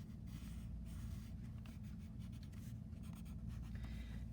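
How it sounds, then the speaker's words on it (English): A pencil draws a line on paper in one continuous, faint scratch under a low steady room hum. "I'm going to draw a line."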